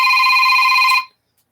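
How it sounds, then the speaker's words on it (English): A telephone rings with a loud, close electronic trill that holds steadily for about a second, then cuts off abruptly into silence. "just a phone call I can't take at the moment"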